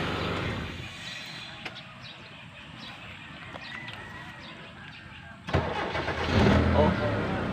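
A car engine cranks and catches after an alternator replacement, first a quiet stretch with clicks and people talking, then the engine bursts into life with a loud start and settles into a running idle.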